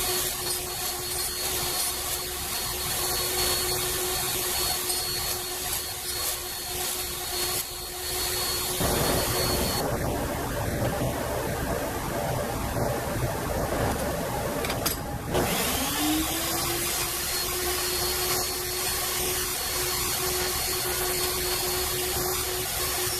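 A Dremel slitting saw spun in a Foredom tool cuts quarter-inch plywood, a continuous whining grind that holds steady throughout, with a brief drop in pitch and a rising spin-up late on.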